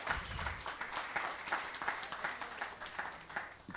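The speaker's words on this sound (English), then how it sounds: "We could give a round of applause." Audience applause at a strategic thinking workshop and expo, a steady patter of many hands clapping throughout at moderate level, with no clear voices.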